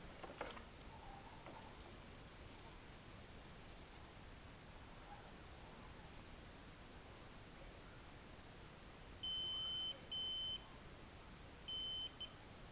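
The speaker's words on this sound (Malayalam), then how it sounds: "ബീപ്പ് കേൾക്കാണ്ടോയെന്ന് അറിയില്ല, സൗണ്ട് ഇത്തിരി കുറവാണ്" Continuity beeps from a multimeter checking a repaired probe wire, three short faint tones in quick succession near the end over steady background hiss.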